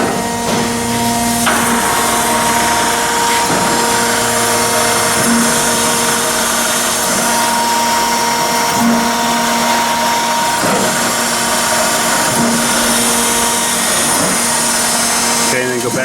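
Wheel head power elevation on a Chevalier 1628AD 16 x 28 inch surface grinder: a steady loud machine hum with tonal whine, continuous throughout, with faint knocks and shifts in the drone.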